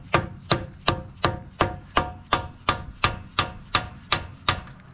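Rear wheel bearing on a 2009-or-later Ram pickup being driven in with a bearing tool: about fourteen sharp metallic hammer strikes in a steady, even rhythm, close and loud with no talking.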